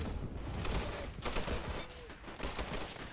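Panther tank cannon fire in a World War II video game battle at Foy, trading shots with Shermans: a dense, continuous barrage of booming shots and crackling gunfire, with loud bursts recurring through the clip.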